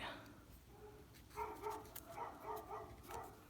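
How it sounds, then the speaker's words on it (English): Neighbourhood dogs bark at night, several faint, distant yips and barks in uneven bursts over quiet background hiss, with no clear talk. "The neighbourhood dogs are really having a good conversation tonight, it seems."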